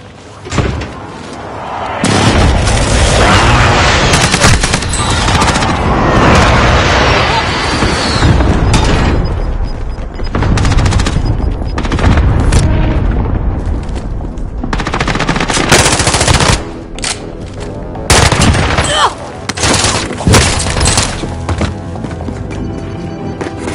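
Sustained, loud, dense gunfire with long unbroken bursts and a few short gaps, machine-gun-like and close, running almost continuously with occasional shouted voices.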